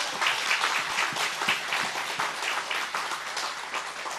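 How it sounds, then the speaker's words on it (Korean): Sustained audience applause at the opening ceremony of a church district vision-training and launch event, dense steady clapping from a large crowd filling the whole clip without talk. "여러분의 큰 박수로"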